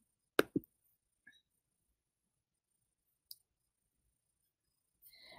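Computer mouse clicks while saving an image in a classroom app, a sharp double click near the start, then a few faint isolated ticks and a soft rustle at the end, close and quiet with no talking.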